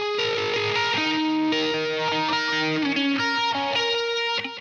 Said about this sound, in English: And I've also got on the MXR Phase 90 on my pedal board at a very slow sort of